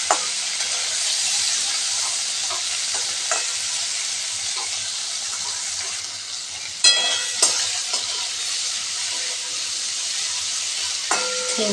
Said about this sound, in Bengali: চিংড়ি মাছটা আমি এইভাবে খুব ভালো করে ভেজে নেব।